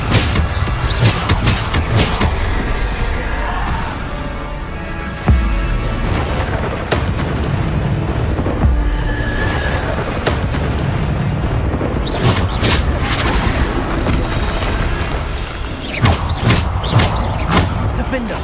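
Repeated Bombarda spell blasts boom through a frantic Hogwarts Legacy battle, dense and loud, with spell-casting voices shouting over a constant roar of impacts and crackling magic.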